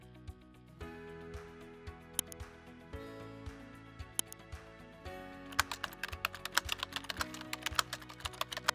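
Keystrokes on a computer keyboard entering a search term into a search menu, a quick run of clicks that grows denser toward the end, heard over steady background music.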